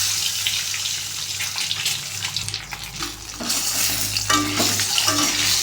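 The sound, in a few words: eggs frying in mustard oil in a wok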